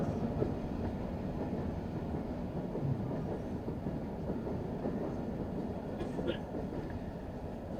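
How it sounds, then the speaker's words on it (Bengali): A train passes nearby with a continuous rumbling, rattling roar that holds steady throughout, and a voice is faintly audible beneath it. "ট্রেনটা ডিস্টার্ব করলো"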